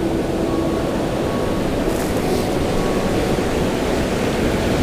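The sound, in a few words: ocean waves breaking on a beach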